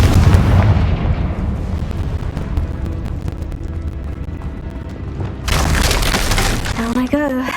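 Loud blasts of the Confringo fire spell in the Hogwarts Legacy video game, with dense booming impacts and a second sharp burst near the end, heard over continuous game noise.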